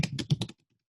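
Fingers tap out a short burst of about five quick keystrokes on a computer keyboard, close and crisp, then the sound stops into silence.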